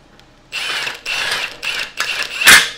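Wrench snugging up a bolt on an enhanced rocker panel brace for a pro touring car, heard as four close, loud bursts of ratcheting clicks, each about half a second long, ending in a sharper final turn.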